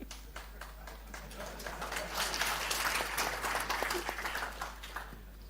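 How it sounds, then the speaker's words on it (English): A conference audience at an e-mobility expo keeps up sustained applause, many hands clapping in a continuous wash that swells slightly in the middle and carries on steadily. "Please keep clapping until she arrives."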